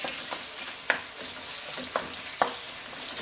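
Seasoned pork with curry, sugar and salt browning in a pan, a soft continuous sizzle broken by a few sharp scraping stirs of a utensil, close and fairly quiet, no talking.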